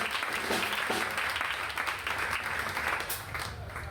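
A church congregation applauds in a steady, dense wash of clapping that holds evenly throughout, filling the room without pause.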